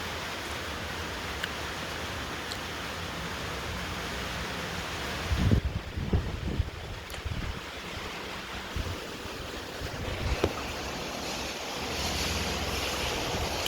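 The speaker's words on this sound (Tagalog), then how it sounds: "Ulan." Steady outdoor rush of rain and gusting wind, with louder buffeting bursts of wind noise partway through.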